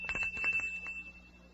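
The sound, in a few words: bell ringing from a flavor-testing machine in a radio drama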